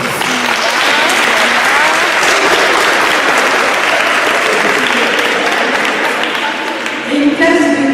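Loud, dense applause fills a hall at a Muséoslam BD event as an audience cheers a collège class, the clapping sustained and even from start to finish without any voices.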